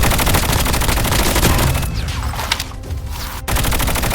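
Rapid automatic gunfire in the mobile game Call of Duty Mobile battle royale hammers loudly in a fast, steady rhythm, briefly easing before another burst resumes.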